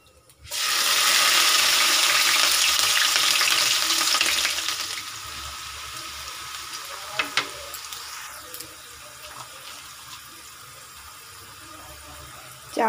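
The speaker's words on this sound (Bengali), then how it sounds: "তেলটা গরম হয়ে গেছে, চলো সবজিগুলো দিয়ে ভাজতে থাকি।" Vegetables hit hot oil in a wok (kadai) for vegetarian chowmein, giving a loud, dense sizzle that bursts in and then settles to a steady, quieter frying hiss with a few utensil clinks.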